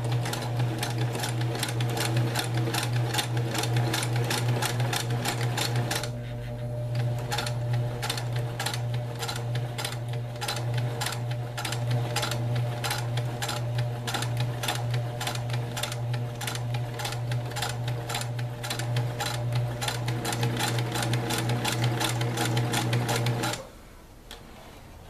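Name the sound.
sewing machine stitching a pin cushion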